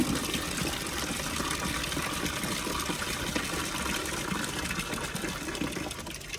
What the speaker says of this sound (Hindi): मोटर मैंने चला दिया क्योंकि ठंडा पानी आ रहा है ना।